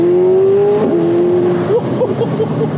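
A McLaren 750S engine revs hard and accelerates. A loud, close, rising engine note climbs, briefly drops at a shift, then climbs again, and the revs fluctuate toward the end.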